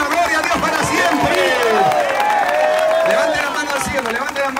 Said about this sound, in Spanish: Démosle fuerte esas palmas, hermano, son para él.